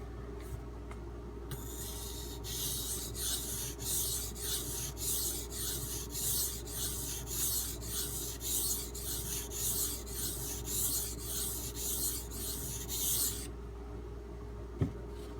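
Knife blade stroked back and forth on the 1K side of a Norton water stone, a soft, steady, rhythmic grinding rasp with even strokes over a low background hum.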